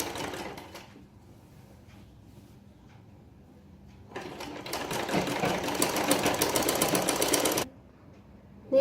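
A sewing machine runs a closing seam around a one-inch salwar waistband. After a quiet stretch with small handling noises it gives one loud, steady burst of rapid stitching for a few seconds, then stops abruptly.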